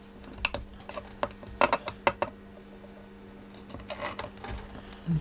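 Cutters snip through a wire tie during a repair on a Thandar TS3022S dual rail power supply, giving a handful of sharp, close clicks and small mechanical clatters in a quiet room.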